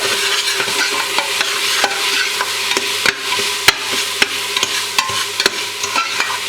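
Tomato paste and smoked paprika being stirred in a pot, with a steady sizzle and a series of sharp spoon scrapes and taps at a fairly regular pace, close and clear with no talking.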